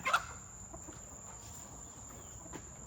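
An Asil rooster gives a faint, brief cluck or two at the start, followed by quiet outdoor background with a steady high insect-like whine.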